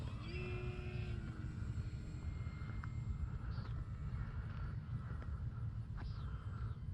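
An RC model Cessna 182 airplane flies through the clip with a steady, continuous engine drone. It stays fairly constant and moderately loud from start to finish, with no talk.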